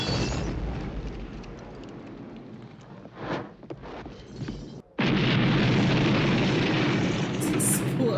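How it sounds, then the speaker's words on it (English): Explosions and fire roar through a scene in the 1982 film The Thing: a dense, sustained rumbling blast, dipping briefly, then surging back with a sharp loud burst that holds to the end. "These explosions are crazy."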